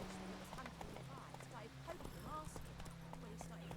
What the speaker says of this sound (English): Obvious there was a horse coming.